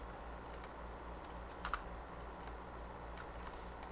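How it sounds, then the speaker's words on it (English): Someone types on a computer keyboard, producing scattered, irregular clicks that are quiet and close against a low background hum, with no talking. "Somebody's typing"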